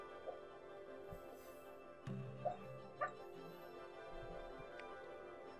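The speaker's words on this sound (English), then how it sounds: "if you hear barking in the background, it's because Hudson is dreaming and it's adorable" Hudson, a dog dreaming in the background, lets out a few soft, muffled woofs and yips spaced across a quiet room tone.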